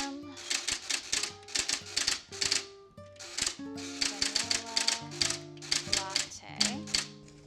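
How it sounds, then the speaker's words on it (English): Keys clack on a Barbie toy typewriter in quick clustered bursts, up close, mixed with short electronic tones and a person speaking softly in between. "use the Barbie typewriter to write it"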